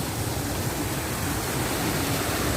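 A small waterfall splits into three channels, giving a steady, dense rushing hiss of falling water that stays even and unbroken throughout.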